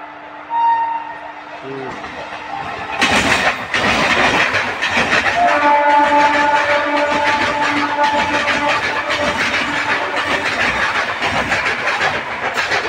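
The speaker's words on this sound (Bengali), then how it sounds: "এই যে হাওড়া লোকাল আসছে, হাওড়া লোকাল" Howrah local train passing close by near a station, a short horn blast followed by loud steady rolling and clattering of the carriages; someone talks briefly before the train arrives.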